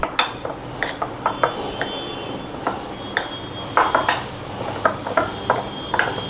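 Cheese chilli ball mixture being mixed in a bowl, a run of sharp utensil clicks and scrapes against the bowl, irregular and close, with no voices.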